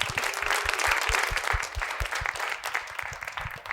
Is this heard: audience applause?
yes